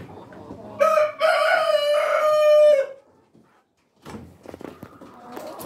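A Rhode Island Red rooster in a breeding pen lets out one loud, drawn-out crow, followed after a short pause by softer scattered clucking and shuffling from the flock.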